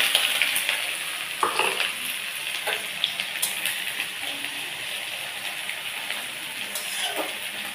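Chopped onions and garlic fry in hot oil for bhindi sabji with a dense, close sizzle. Several sharp bursts and spatters mark the pieces dropping in and being stirred, then the sizzle settles into an even hiss.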